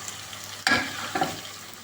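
Soft bubbling and sizzling of meat, onion and carrot stewing in a pot, with a brief scrape and clatter as something is stirred or dropped in.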